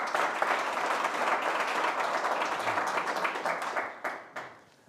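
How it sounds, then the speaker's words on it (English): A live audience at a bitcoin talk event breaks into sustained, dense applause to welcome guests, steady and full for several seconds before thinning out and fading at the end. "If we could please give them a warm round of applause."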